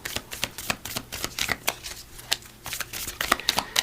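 A deck of oracle cards being shuffled by hand, a close, steady run of crisp riffling flutters and soft slaps with no voice.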